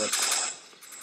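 A rapid rattling burst of automatic gunfire from the Freefall video game, loud and close, lasting about a second.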